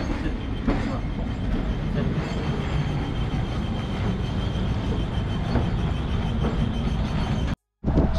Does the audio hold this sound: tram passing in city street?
yes